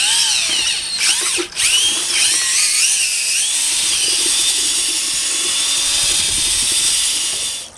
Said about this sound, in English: Put it into your drill of choice.